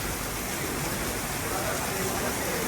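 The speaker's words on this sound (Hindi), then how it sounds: "इतना गंदा बारिश है।" Heavy rain pouring down on an open road during a motorbike or car ride, a dense steady hiss filling the whole stretch with no break or separate drops standing out.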